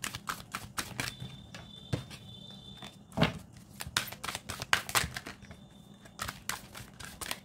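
Tarot cards shuffled and laid out, a brisk run of sharp papery snaps and riffles close by, coming in quick irregular bursts with short pauses between them.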